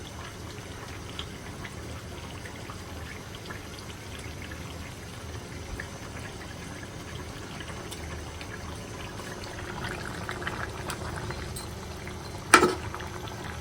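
Fried catla fish pieces, including the head, simmering in a watery curry in a home kitchen, giving a steady low bubbling and sizzling bed throughout, with a brief sharp clatter near the end.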